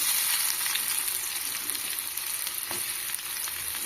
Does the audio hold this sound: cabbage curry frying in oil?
yes